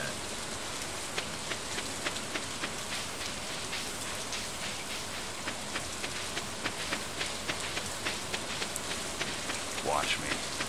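Steady rain pattering over the farm in Stardew Valley, a dense even hiss of drops with light ticking accents, continuous and close, with no talk over it.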